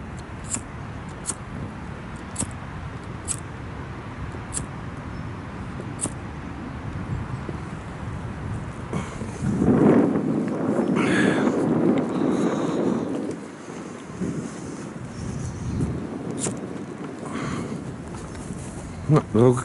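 Strong gusts of wind buffet the microphone outdoors in a storm-damaged park, a low rumbling roar that swells loudest around the middle, with a person talking over it throughout.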